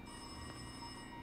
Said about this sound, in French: C'est mon téléphone qui sonne ou c'est dans le film?